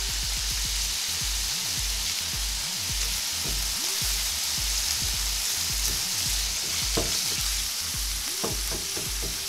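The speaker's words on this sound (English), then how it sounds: "Now I'm just going to cook and stir until we brown our meat." Ground beef seasoned with onion powder, oregano, cayenne, black pepper and cumin sizzles in a pan for quesadillas, with a steady close frying hiss and repeated scraping strokes of a utensil as it is stirred.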